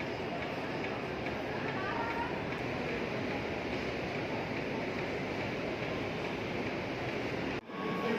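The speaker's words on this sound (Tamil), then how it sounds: "பிளாட்ஃபார்ம் நம்பர் 2லேருந்து இன்றைக்கி நம்ம மெமு ஸ்பெஷல் டிபார்ச்சர் ஆகுது" Dense rumbling hum of a MEMU electric train at Chennai Central platform 2, broad and steady like a running train or busy platform, continuous and loud with a brief dropout near the end.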